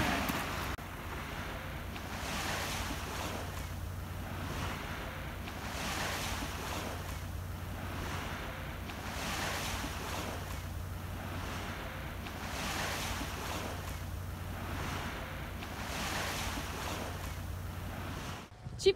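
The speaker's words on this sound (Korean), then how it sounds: "파도 소리." Ocean waves roll in steadily at Gujora beach, a continuous surf wash with regular swells rising and falling every few seconds, mixed with some wind noise on the microphone.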